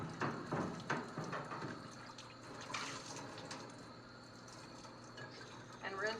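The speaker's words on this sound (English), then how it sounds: "I'm just going to take a sponge from by the sink and wash the container." A pickle container is scrubbed with a sponge at a kitchen sink, giving soft, continuous wet rubbing and trickling water sounds close by at low volume, with a few louder splashy strokes near the start and end.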